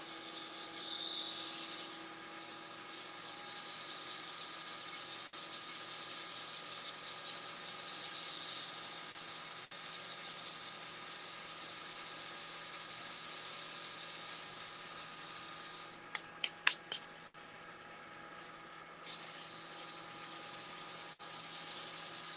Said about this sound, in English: Right now I'm sanding with 120.